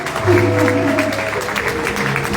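A church congregation claps and cheers at a French-language worship gathering, steady applause throughout with a low hum and a voice mixed in.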